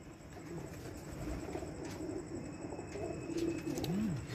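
Pigeons coo in repeated soft, throaty phrases close by, with faint chirps and a steady background hum, and no one speaks.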